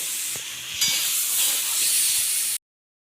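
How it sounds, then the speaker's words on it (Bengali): Pointed gourd curry sautéing in a pan gives a steady, loud hiss of frying that swells briefly and then cuts off abruptly before the end, with no talking. "তিন চার মিনিট আমি একটু কষে নেবো"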